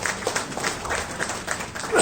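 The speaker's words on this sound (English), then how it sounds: "people should have an applause for that" Applause from an audience at a hospital event, a steady close patter of many hands clapping with no clear beginning or end.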